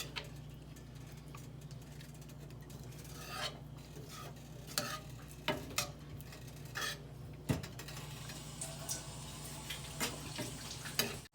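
Chickpeas being stirred into chole masala in a pan, with soft scraping strokes and light ticks at an irregular rhythm over a low steady simmer, close and fairly quiet with no talking.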